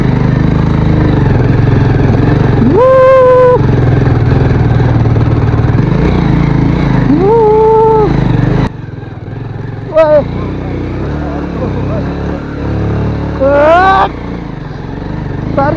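A motorcycle engine drones steadily through an off-road ride, a low continuous rumble sitting beneath a singing voice and music that rise and fall over it, the engine dipping briefly before carrying on.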